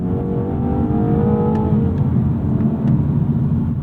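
A BMW 230i's B48 four-cylinder engine pulls steadily under acceleration, a continuous loud drone with rising harmonics and no voices over it.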